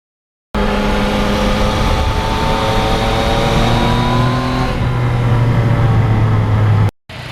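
A motorcycle fitted with a radar detector mount rides steadily, its engine droning loud and close with smooth rising pitch as it accelerates, wind noise over it, then a brief cut near the end.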